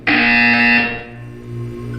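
A loud electronic buzzer from the Portal 2 video game sounds once, harsh and tonal for about a second before fading, with a low hum continuing beneath.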